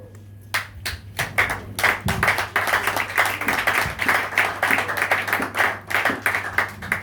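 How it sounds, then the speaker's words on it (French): Church congregation applauding loudly at a French-language service, dense sustained clapping from many hands with a steady low hum underneath, no voices over it. "Je voudrais que tu acclames très fort la parole de Dieu"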